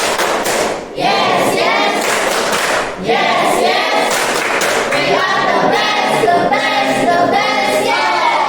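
A second round of rhythmic spirit clapping by schoolchildren fills a classroom, with loud, continuous patterned claps and thumps blended with their chanting voices and only short dips.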